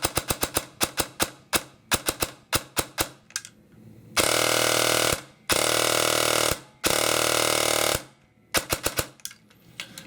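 An airsoft gun fitted with a Matrix 3000 Magnum motor fires close up: quick single and short-burst clicks bracket three sustained full-auto bursts of steady, loud buzzing rattle.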